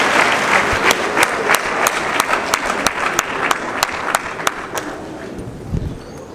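Sustained audience applause fills a church service gathering, a dense wash of many hands with a few sharper claps standing out at a steady pulse, fairly loud and close throughout.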